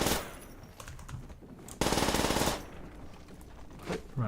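Rapid automatic gunfire in a video game, with a short, loud, evenly pulsed burst in the middle of quieter shooting and game noise.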